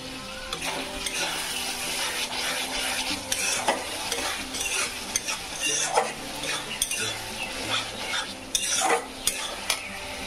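A spoon stirs curd into egg kosa masala frying in a pan, scraping and clinking against the metal over a steady sizzle for about ten seconds, close and moderately loud.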